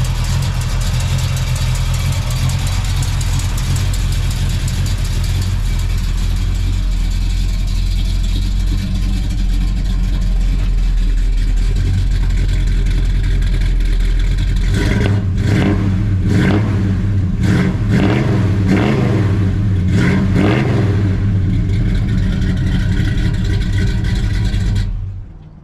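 A 1967 Chevelle Super Sport V8 with a deep, loud burbling idle for about fifteen seconds, then a series of sharp throttle blips rising and falling before it settles and cuts off near the end.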